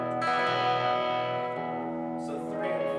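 Guitar run through a POLY Verbs reverb pedal on its first setting with the mix turned up, sustained chords ringing out with a lush wash of reverb tail, loud and close.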